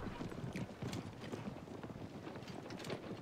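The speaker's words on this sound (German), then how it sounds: "Erstmal reiten." A horse gallops in Assassin's Creed Origins, with rapid rhythmic hoofbeats clopping continuously at close range under a faint background of wind.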